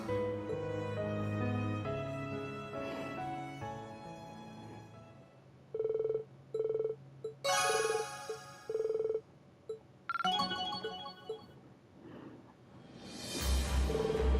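A telephone rings in short repeated bursts of a steady electronic tone, fairly loud, set against a game's music and sound effects.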